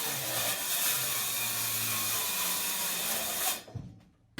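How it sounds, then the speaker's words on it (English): Plywood panels are pried and pulled out section by section from a food trailer interior, giving a steady scraping, creaking rasp for several seconds before a quick clatter and a drop in sound. "just pulling out section by section the plywood, trying to not destroy too much of the rest of the things"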